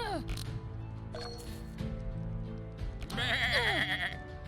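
Sheep bleat in the video game Across The Obelisk, a loud wavering cry near the end rising over busy game music and effects.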